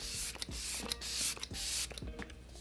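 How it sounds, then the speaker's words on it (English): Morphe Luminous setting spray is misted onto a face in a few quick, close hissing bursts, with faint rubbing between them. "So I like to go in with my Morphe Luminous setting spray first."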